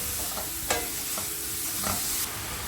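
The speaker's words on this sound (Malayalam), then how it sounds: "ഉള്ളി വാടാൻ ആവശ്യമായ ഉപ്പ് ചേർത്ത് കൊടുക്കുക. എന്നിട്ട് വാട്ടിയെടുക്കുക." Chopped onions with salt sauté in a pan, a soft continuous sizzle close by, marked by a few quick spatula scrapes as they are stirred, with no talk.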